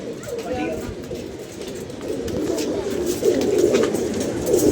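Pigeons coo repeatedly close by, their throaty calls swelling toward the end, while people talk over them.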